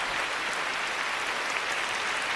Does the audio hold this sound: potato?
no